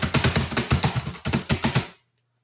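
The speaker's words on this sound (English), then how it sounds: "Oh, that is some great typing right there." Rapid typing on a keyboard, about a dozen crisp, loud keystrokes in a quick, steady rhythm, close and alone with no voices, stopping abruptly after about two seconds into silence.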